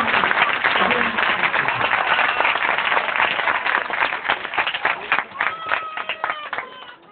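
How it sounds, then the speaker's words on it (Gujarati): Loud, sustained applause from a village audience at a community gathering honouring a family, dense clapping that holds steady before thinning out toward the end. "એક વખત જોરદાર તાળીઓથી એ"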